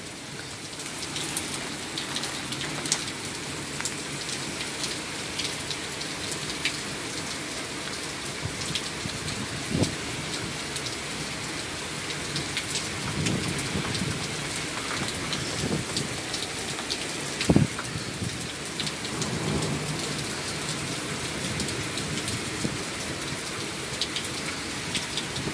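Heavy rain pours steadily onto a porch on a stormy night, a dense hiss of drops broken by occasional sharper splashes and a low, faint roll of thunder, with no one speaking.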